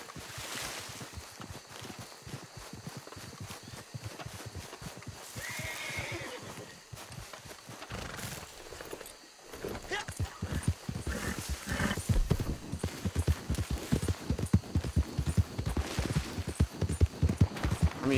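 In the online game Red Dead Redemption 2, a horse's hooves clip-clop in steady rapid beats with neighs and whinnies breaking through, growing louder and busier toward the end, with no voices.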